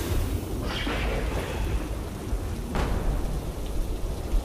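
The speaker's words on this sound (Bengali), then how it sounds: "বৃষ্টির বেগ তখন অনেক বেড়েছে।" Heavy rain in a horror cartoon pours steadily as a dense, loud hiss, broken by a couple of brief swelling rushes, with no voices over it.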